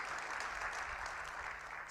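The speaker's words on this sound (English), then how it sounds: "Let's please give the gentleman another round of applause." Audience applause at a budget review dinner comes through as a faint, continuous patter of clapping with a low hum beneath it.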